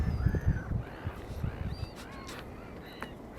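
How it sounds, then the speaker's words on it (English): Black-headed gulls call in a scattered chorus of short cries over a busy, noisy outdoor background at an estuary in Ria de Alvor, Portugal, with several birds overlapping near and far. "But these are just the black-headed gulls here."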